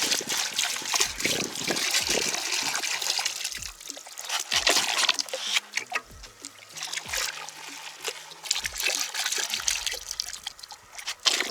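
Water sloshes and trickles in a plastic gold-panning dish, with rhythmic swirling washes, drips and small splashes as gravel is worked in water, close and fairly quiet.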